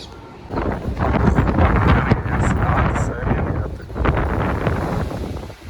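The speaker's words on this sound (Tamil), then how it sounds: "காற்று பயங்கரமாக அடிக்குது கேமராவில் சரியாக தெரிய மாட்டேங்குது பட் வந்து மழை பெஞ்சிக்கிட்டு இருக்கு" Strong wind and rain buffet the microphone in heavy, gusting roars that swell and ease, loud and close, with a voice speaking underneath.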